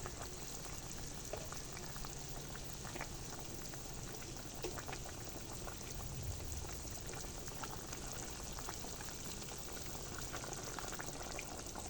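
Fish and fried pointed gourd simmering together in a curry, a steady bubbling and sizzling that runs evenly throughout at moderate volume with no voices.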